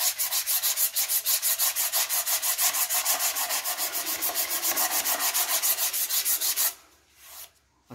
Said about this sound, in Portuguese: Isso você faz com uma lixa comum.